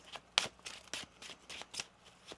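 A deck of tarot cards is shuffled by hand at close range, a quick run of crisp riffling flicks and slaps, quiet and alone in a room.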